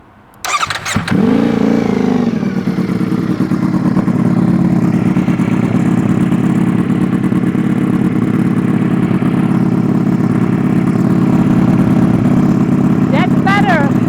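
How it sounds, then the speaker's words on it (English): A 2025 Ducati Panigale V4S with a Termignoni exhaust starts with a sharp crack and settles into a loud, steady, throbbing idle that carries on strongly throughout. "It's finally time to start the engine and hear the Italian sound."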